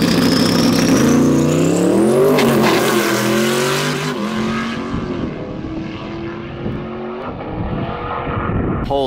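A 1,200 hp Dodge Challenger Demon drag car roars loud and close as its engine revs up hard, pitch rising sharply, then a steady aggressive drone that fades slightly as the car pulls away.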